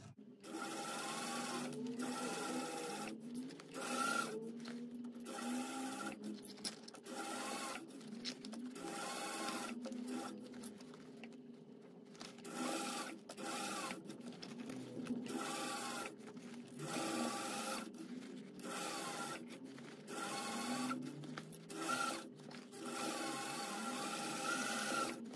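A Singer sewing machine runs in repeated bursts of stitching along bag seams, its steady mechanical whir starting and stopping with short pauses, close and clear with no talking.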